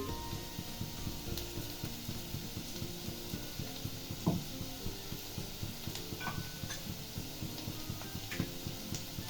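Crushed ginger and garlic fry in a couple of spoons of hot oil, a steady low sizzle with occasional scrapes and clinks as the mixture is stirred.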